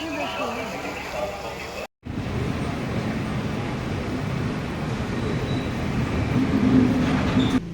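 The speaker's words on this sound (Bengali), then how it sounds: "এটা হচ্ছে বিজয়বাড়া স্টেশন," Ambience at the large Vijayawada railway station with a train present, a brief dropout followed by a steady loud rumble of rail noise and crowd murmur that swells slightly toward the end, with indistinct voices underneath.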